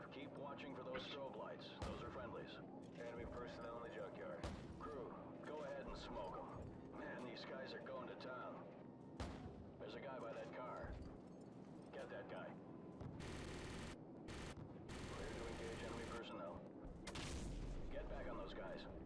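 Call of Duty 4: Modern Warfare campaign combat: repeated sharp gunshots and heavy booming artillery rounds scattered irregularly through the scene, with radio-style voices talking throughout.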